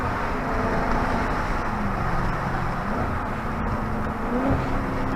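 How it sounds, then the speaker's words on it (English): A Dodge Charger Daytona 392 gives a loud, steady engine rumble that holds close and continuous throughout, with a broad low roar and no pauses. "I feel like I'm gonna get a bunch of tickets if I buy this car. It's so loud. It sounds nice."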